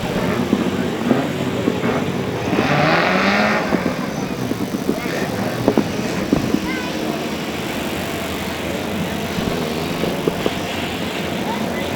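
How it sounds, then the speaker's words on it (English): Fourteen Hot 1600s race cars pull away together at a race start, engines rising and revving in overlapping waves under a commentator's voice. "Away we go, that was probably as good a start as you're going to get for Hot 1600s"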